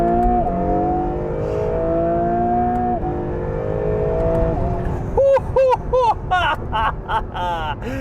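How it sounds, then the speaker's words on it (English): A 2022 Acura NSX Type S supercar on the road, its engine droning steadily at first, then rising in a series of sharp, loud revs and gear-change pulses, with no talk over it. "All right, driving the new NSX Type S."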